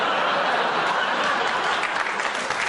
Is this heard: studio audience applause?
yes